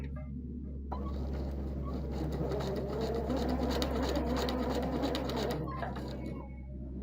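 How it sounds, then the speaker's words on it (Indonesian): A sewing machine stitches straight quilting lines, its steady rapid whirring motor running close and continuous for several seconds before slowing off. "mulai menjahit ke atas."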